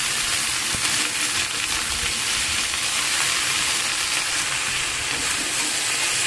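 Red amaranth greens frying in hot oil with chopped garlic and onion give a steady, close sizzle that runs unbroken and evenly loud throughout, with faint stirring.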